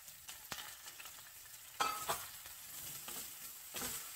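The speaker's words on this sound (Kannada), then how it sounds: "ನಾನು ನೆಕ್ಸ್ಟು ಒಂದು ದೊಡ್ಡ ಗಾತ್ರದ ಈರುಳ್ಳಿಯನ್ನು ನೋಡಿ ಈ ಥರ ಸ್ಲೈಸ್ ಆಗಿ ಹೆಚ್ಕೊಂಡ್ಬಿಟ್ಟು ಹೀಗೆ ನೀಟಾಗಿ ಇಟ್ಕೊಂಡಿರೋದನ್ನು ಹಾಕ್ತಾ ಇದ್ದೀನಿ" A large sliced onion with curry leaves fries in a pan, giving a soft, steady sizzle with a few brief stirring scrapes, faint and close, with no talking.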